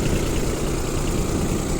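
Yanmar Ke-60 compact tractor engine idling steadily nearby, a continuous low rumbling chug with a constant level and no voices.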